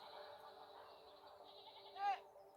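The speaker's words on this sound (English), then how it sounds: "I can hear sheep." Sheep bleat faintly in the After Inc. strategy game, a soft wavering animal call over a quiet droning background, with one louder bleat near the end.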